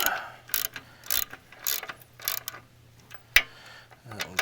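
A hand ratchet tightens bolts on the engine-pump coupler of a Yard Machines log splitter, with a series of short, rhythmic clicking strokes close by, followed by a sharp metallic clack near the end.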